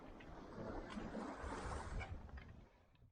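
Ocean waves wash and rush around a sailboat at sea, a broad hissing surge that swells and fades over a few seconds, faint and without talk.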